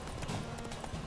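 Hooves of Roach, the horse in The Witcher video game, clip-clop in a quick, even rhythm on a road, close and steady across a brief moment with no talking.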